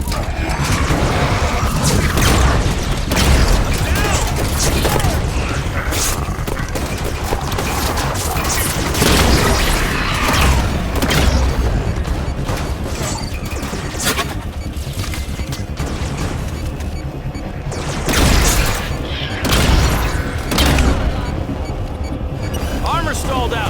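Gunfire and explosions from a Halo 5 battle roar loud and continuous for the whole stretch, dense crashing bursts with heavier booms near 1, 10 and 18 seconds, while voices talk over the fighting.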